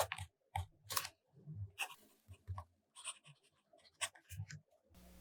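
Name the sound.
fountain pen writing on paper with Platinum Carbon Black ink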